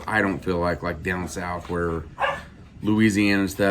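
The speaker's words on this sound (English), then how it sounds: "Sorry about the dogs." Dogs bark and yip indoors in repeated bursts, loud and close, mixed with someone talking over them.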